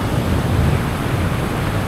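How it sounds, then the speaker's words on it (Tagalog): Strong sea waves and wind out on open water, a dense unbroken roar of surf and gusting air buffeting the microphone, loud and close. "lumakas na rin yung mga alon"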